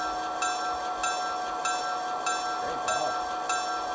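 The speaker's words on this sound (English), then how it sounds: "Let's take a listen to the bell." A model train locomotive's bell rings in a steady, regular rhythm, clanging about every half second, moderately loud and alone.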